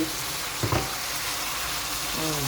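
Steady sizzling of pork with holy basil and mushrooms stir-frying in a hot pan, with a brief scrape of stirring partway through and a faint voice in the background.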